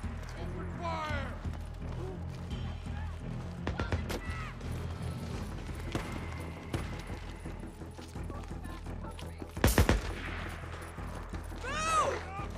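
Gunfire in Days Gone erupts at an enemy ambush camp as scattered sharp shots and a dense, loud burst near the end, mixed with clattering and voices talking and shouting throughout.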